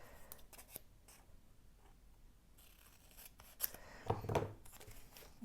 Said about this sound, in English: Let's just cut this too.